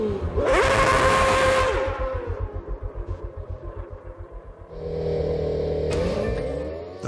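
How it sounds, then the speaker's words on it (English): An F1 car at Silverstone revs hard as it deliberately spins its rear tyres on the grid. A loud, rising engine howl gives way to a pulsing, chattering lower rumble, then the engine swells again near the end. "David deliberately spins his rear tyres to make them hotter and stickier"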